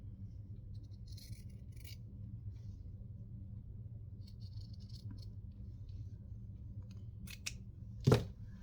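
Scissors snip through material for a handmade pocket or tag: a few light, scattered cuts over a low background rumble, ending in one louder, sharper snip near the close.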